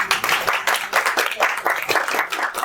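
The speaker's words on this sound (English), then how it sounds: "Keep that applause going" Audience applause at a Memphis event: a steady, fairly close patter of many hands clapping, with dense, irregular bursts throughout and no talk over it.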